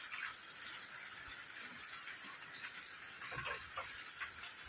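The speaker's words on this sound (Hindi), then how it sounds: "बहुत ज़्यादा बारिश हो रहा है।" Heavy rain falling over a courtyard as water collects on the ground, a steady faint hiss of rainfall with scattered close drips and splashes, no voices.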